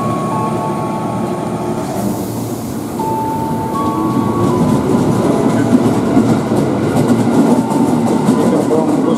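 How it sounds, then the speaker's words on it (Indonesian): A commuter train departs a station after its doors close, a loud, steady rumble of wheels and carriages that builds as it gathers speed, with faint thin squeals drifting over the noise. "ini keretanya berangkat"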